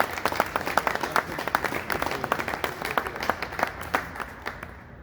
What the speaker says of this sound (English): So please give a big round of applause for your high school, Robin BREW.